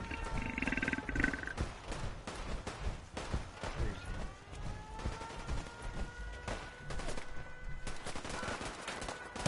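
Deathclaw creature roaring in the game Fallout 4 amid a busy battle, with loud bursts of gunfire and growling roars layered over a constant din, no talk heard.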